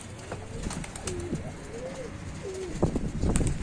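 Pigeons at a pigeon seller's loft in Tanta coo close by in a series of soft rolling calls, with light rustling and small knocks in the background.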